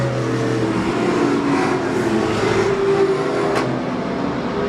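Race cars circle a track at an evening memorial race, a steady engine drone rising and falling as cars pass, moderately loud and continuous.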